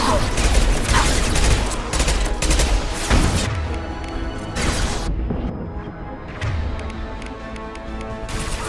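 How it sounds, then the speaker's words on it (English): Mass Effect 2's impact shot ability fires in a dense, crashing barrage of loud bursts and smashes, with brief lulls, amid heavy combat noise and no voices. "Firing an impact shot!"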